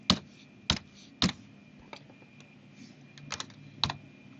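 Sparse keystrokes on a computer keyboard while entering a CAD command, several sharp isolated clicks spaced irregularly with a quick cluster near the end, close and fairly quiet against a faint hum.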